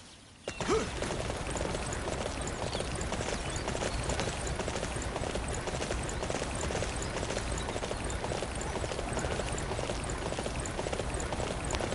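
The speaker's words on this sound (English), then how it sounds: "Calling out my horse here." Horse galloping in the video game Dynasty Warriors 9, a steady, dense drumming of hoofbeats that starts abruptly and runs loud and continuous, with no talk over it.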